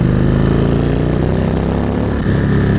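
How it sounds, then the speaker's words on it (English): An Indian Springfield motorcycle engine held at full throttle, a loud, steady, close-up roar with dense rumbling harmonics that stays continuous throughout with no break, no talking. "Let's give it a little full throttle."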